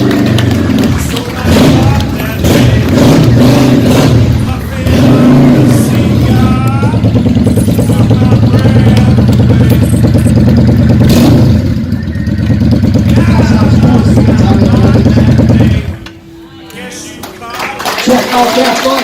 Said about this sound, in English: Let's go ahead and see this bike move.